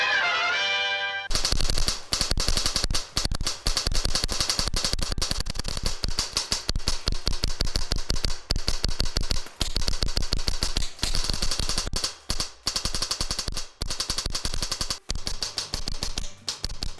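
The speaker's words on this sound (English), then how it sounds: "we take the gun down to our indoor range and show you how it shoots out of the box" An ARC-1 mechanical HPA airsoft rifle fires at an indoor range in long, rapid strings of sharp, snapping shots with brief pauses between bursts, close and loud.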